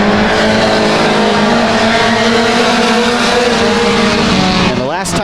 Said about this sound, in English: Well, that is Eric Weiss in the 44 car